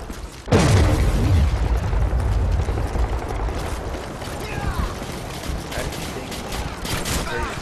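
Rapid gunfire and booming explosions from the video game Modern Warfare 3 on PS3, a dense sustained barrage after a sudden loud onset, continuous and close throughout.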